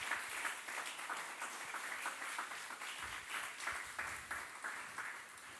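A church congregation claps together in a steady, fairly quiet ovation with an uneven rhythm, sustained throughout with no one speaking over it.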